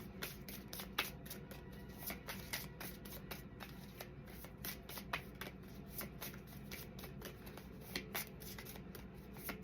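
Tarot cards are shuffled again and again, crisp riffling flutters and taps repeating close by at a quick, uneven pace, with no talking.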